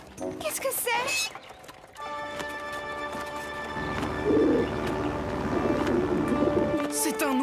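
Cartoon bird cooing like a pigeon or dove, repeated calls over music and sound effects, with a voice speaking briefly.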